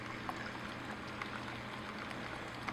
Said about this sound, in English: You can see bubbles flowing through here inside.